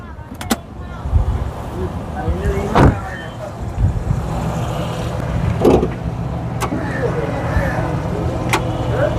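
Toyota Axio X Edition with a 1NZ 1500cc engine, key-started and running, giving a low steady engine rumble punctuated by several sharp clicks and knocks, with a voice briefly heard.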